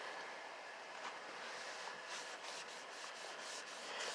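An applicator pad rubs 3D Universal Protectant onto dull, long-undressed car trim, giving a steady soft scrubbing hiss with repeated light strokes, close and alone.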